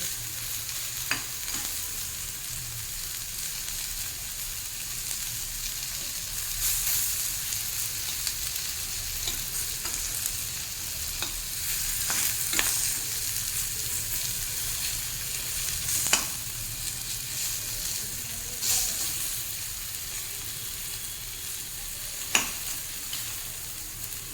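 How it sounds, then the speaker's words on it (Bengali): Ridge gourd pieces fry in a pan with a steady, close sizzle, broken every few seconds by sharp scrapes and clicks as they are stirred and turned; no voices. "ভাজাভাজি শেষের পথে তাই আমি বারবার নেড়ে দিচ্ছি"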